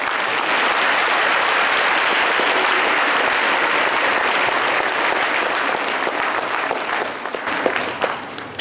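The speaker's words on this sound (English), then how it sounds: "Give a round of applause to our parent speakers and performers." Loud, sustained applause from a school audience at a Martin Luther King Jr. celebration for parent speakers and performers, a thick wall of clapping that holds steady and begins to break up into scattered claps near the end.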